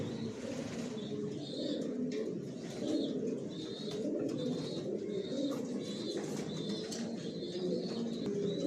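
Soft, low cooing from several racing pigeons in a loft repeats throughout, with faint higher chirps and occasional wing flutters in the background.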